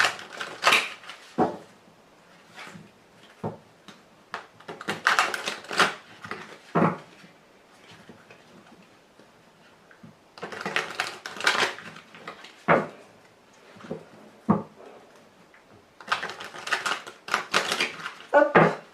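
Tarot cards are shuffled and cut by hand in bursts of crisp riffling and slapping, close and fairly loud, separated by short pauses.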